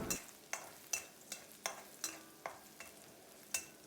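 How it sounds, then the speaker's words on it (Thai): Regular scraping strokes of a spatula in a pan, roughly two per second, over a faint sizzle of garlic stir-frying with pork. "ผัดให้กระเทียมของเราแตกกลิ่นหอมเลยครับ"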